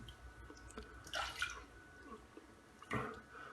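Tap water runs and splashes in short bursts as a razor and face are rinsed after a first shaving pass with vintage shaving soap, faint and close, with quiet gaps between splashes.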